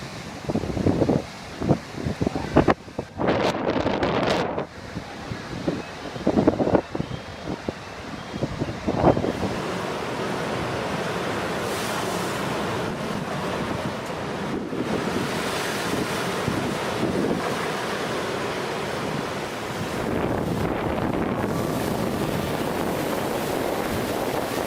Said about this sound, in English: A monster wave is recorded in Spain in 2014.